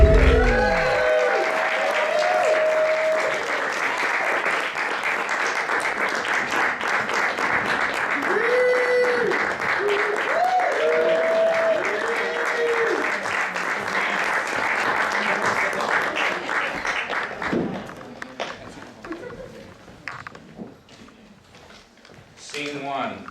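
An audience applauding at a live improv theater show, a long steady round of clapping that runs loudly for most of the stretch before thinning out, with voices and cheers mixed in.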